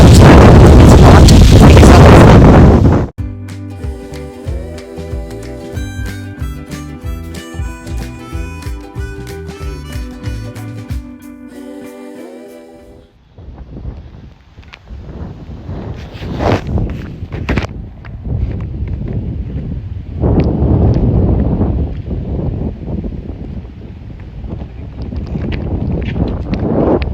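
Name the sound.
cold wind blowing outdoors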